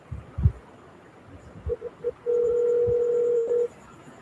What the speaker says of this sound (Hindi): फोन बज रहा है यार, म्यूट कर लो थोड़ा सा।